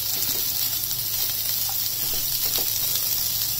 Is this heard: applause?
no